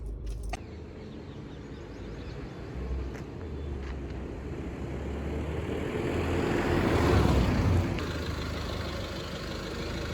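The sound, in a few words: Tata Altroz turbo diesel car being driven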